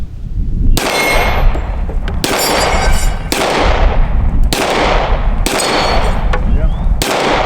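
A Smith & Wesson M&P Compact pistol fires six sharp shots at a steel target, spaced about a second or more apart. Each loud crack is followed by a ringing metallic clang that fades away.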